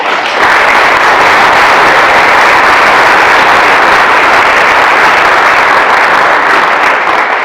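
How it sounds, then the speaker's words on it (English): An audience at an evening dialogue event breaks into dense, loud applause that holds steady throughout, many hands clapping together without speech. "Will you please give them a round of applause?"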